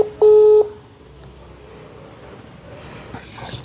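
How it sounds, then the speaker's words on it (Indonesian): A single short telephone tone beeps loudly at the start of a phone call. A quiet, faintly noisy line follows. "langsung aja telepon Pak Munizarnya."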